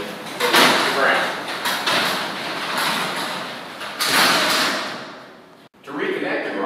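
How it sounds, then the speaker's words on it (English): A garage door is pulled down by hand to the ground. It gives a long, loud rolling rumble and rattle of metal panels sliding in their tracks, then a brief thump as it stops, and noise resumes after. "And then pull the door down manually to the ground."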